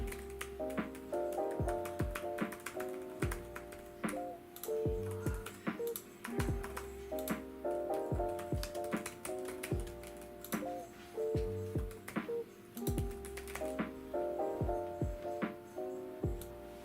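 Fingers type on a computer keyboard at close range, faint key clicks in irregular bursts with short pauses between runs.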